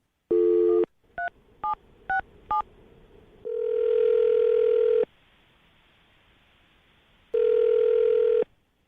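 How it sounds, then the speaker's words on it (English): A telephone handset plays a dial tone, then five short keypad tones are dialed one after another. A long tone follows, then silence, and the tone returns at the end. Everything is close and clean, with no talking. "I'm going to dial the phone number right now, get her on the phone"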